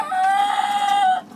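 A single drawn-out, tonal call from a young hen, one of a backyard flock about twenty weeks old, lasting about a second, close and fairly loud, with no talk.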